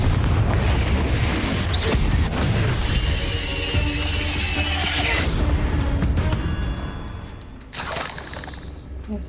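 Confringo explosion spell cast in Hogwarts Legacy, a loud booming blast with crackling debris amid dense game sound and music, while a voice speaks over it.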